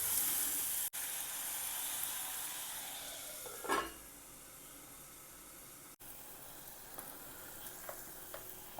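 Tomatoes cooking in a covered pan give a steady soft sizzle and hiss, fairly faint and even, with a brief clatter partway through and no talk.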